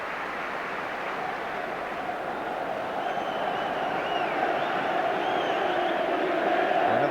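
A packed football stadium crowd at a 1994 FA Cup sixth-round match between Manchester United and Charlton Athletic, a dense, steady roar that builds slightly louder toward the end, heard from a distance.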